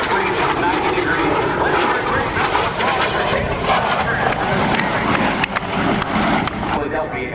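A fixed-wing aircraft roars past during an aerobatic display at the NAS Oceana airshow, a steady loud engine drone filling the whole stretch with some crackling peaks, with an announcer talking over it.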